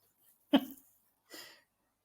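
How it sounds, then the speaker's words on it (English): A man coughs twice, a sharp close burst followed by a softer second one, with quiet pauses around them. "he's having a good cough"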